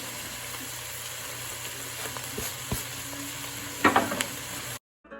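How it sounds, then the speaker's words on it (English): Pink peppercorns and hibiscus flowers sizzle in a pot of hot oil for a pot roast, a steady close frying hiss with a few scraping stirs near the end before cutting off. "We're going to be stirring around those beautiful spices, make it smell all nice"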